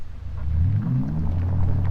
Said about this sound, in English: It's like a mixture of like a V8 and something a little bit more sci-fi